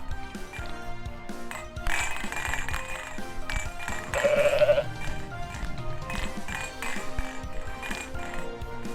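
A goat bleats several times amid busy game audio with music, clinks and chimes, the bleats moderately loud and recurring over the nine seconds.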